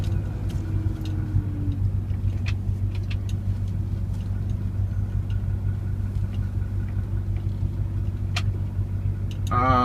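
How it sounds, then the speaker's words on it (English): A diesel car idles and reverses slowly at a fuel pump, a steady low engine rumble close by with faint background clicks and no talk. "Bit of reversing."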